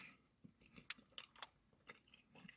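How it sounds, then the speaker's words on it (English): Someone chews Skittles candy near the microphone, with soft irregular crunches and wet mouth clicks spread across a couple of seconds, quiet and close, with no talking. "Let me get through chewing before I start."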